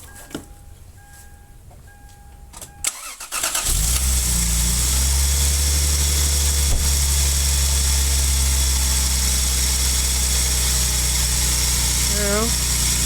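A Lexus IS300 (Altezza Gita) cranks briefly and fires up, then settles into a steady, loud, close idle that drones on with a slight flutter near the end.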